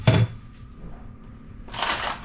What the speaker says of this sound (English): We're going to just put them all into the flour and give the flour a mix.